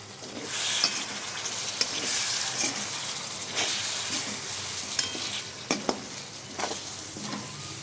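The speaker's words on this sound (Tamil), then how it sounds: "ஸ்லோ ஃப்ளேமில் ஃப்ரை பண்ணிக்கோங்க, ஏன்னா கொஞ்சம் மசாலா தீஞ்சிரும்" Taro root (seppan kizhangu) frying in masala over a slow flame for kara kuzhambu gives a steady close sizzle, broken by stirring scrapes and a few sharp knocks of the spoon against the pan, with no talking.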